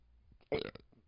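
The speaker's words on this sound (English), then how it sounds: "Burp, sorry." A single short burp from a man, close and fairly loud, lasting about half a second with nothing else around it.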